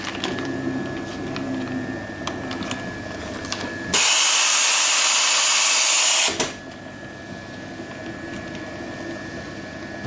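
A continuous band sealing machine for nitrogen-inflated foil bags runs on a test pass, with a steady mechanical whir under bright, dense hiss in the middle, then settling back to a lower running drone.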